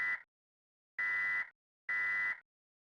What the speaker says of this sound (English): This is a test of the emergency broadcast system.